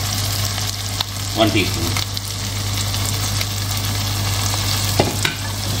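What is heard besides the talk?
whole spices roasting in oil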